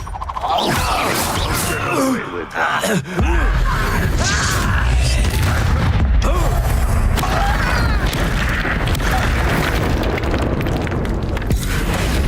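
The Confringo blasting curse goes off in Hogwarts Legacy as a loud booming explosion followed by a sustained roaring, crackling rumble of game effects, with voices and game sounds mixed in.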